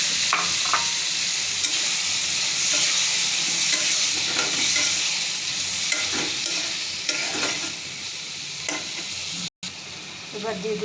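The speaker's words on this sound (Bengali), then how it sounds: "মশলা ভাজা হয়ে গেলে দিয়ে দেবো আলু কুচি।" Chopped new potatoes fry in oil with salt and coriander powder for a Bengali small-fish curry, giving a loud, steady sizzle throughout with repeated stirring and scraping.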